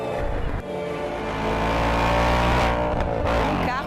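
A Ford Mustang GT Performance muscle car engine drones loud and close, its rumbling pitch climbing in a rev before easing back down.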